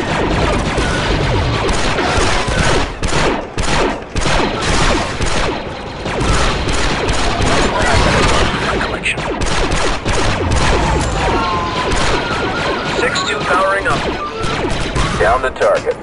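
Blaster gunfire in Star Wars Republic Commando, loud rapid volleys of shots with crashes and impacts in a busy, sustained battle, with voices talking over the shooting throughout.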